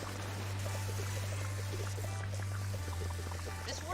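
Water runs steadily from a source in a cleaning simulator game, a continuous soft pouring stream with a low hum beneath and faint small splashes, heard alone.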